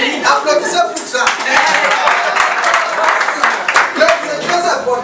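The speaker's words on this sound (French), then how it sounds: "Applaudissez pour ça." Applause and scattered clapping from a crowd at a Bitcoin center inauguration in Cameroon, with distinct individual claps and cheering voices mixed into a lively, fairly close wash lasting about five seconds.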